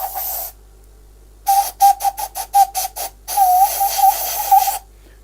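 A turned wooden whistle fresh off the wood lathe is blown in a short breathy toot, then a run of quick rhythmic chirps, then a longer warbling blast, airy and close.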